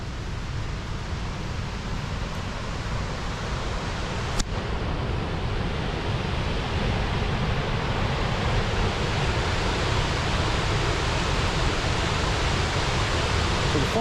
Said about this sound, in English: You can hear the falls in the distance here.